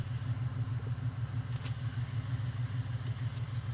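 A Jeep Grand Wagoneer with 173,000 miles idles steadily nearby, making a low, even rumble with a slight pulsing throb and no other sounds.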